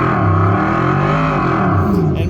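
A Tesla's external speaker plays a simulated Aston Martin V12 exhaust note, a steady, loud, droning engine hum with slight pitch wavering throughout, heard close up.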